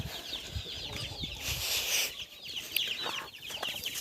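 A brood of chicks squealing outdoors at feeding time in a run, many shrill overlapping peeps close by, with clucking and a brief flutter of wings amid the chorus.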